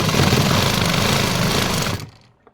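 A sewing machine stitches a pocket strip onto Patiala pants, giving a loud, continuous mechanical whir for about two seconds before it stops abruptly, followed by a faint click.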